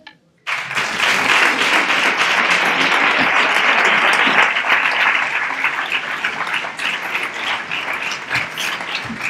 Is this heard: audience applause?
yes